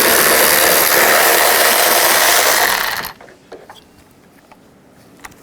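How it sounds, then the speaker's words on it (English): A 10mm socket, likely on a power ratchet, whirs loudly and steadily as it backs out a headlight bolt on a 2007-11 Honda CR-V, then stops abruptly, leaving faint clicks and handling noises. "There's a 10mm bolt right here. Use a 10mm socket."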